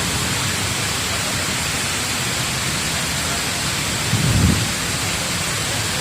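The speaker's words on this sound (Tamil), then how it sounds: "நல்ல தண்ணீரோட சவுண்டு நல்லா பயங்கரமாக இருக்கும்" Waterfall pouring down from a high mountain in Fujairah, a loud, steady, broadband roar of rushing water with a brief deeper thump partway through and no talking.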